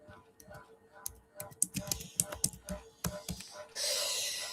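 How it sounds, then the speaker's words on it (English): Rapid typing on a computer keyboard, close and clicky in uneven bursts, with a voice talking at moments. "I am actually typing."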